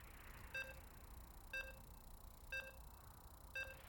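Four evenly spaced electronic beeps, one per second, short and clear over a soft background hiss.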